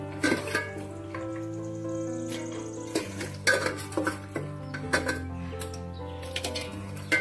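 Chicken being mixed by hand or spoon with spices, salt, ghee and oil in a bowl for dum biryani, producing repeated wet squelching stirs and clinks against the bowl over a low background hum, no speech.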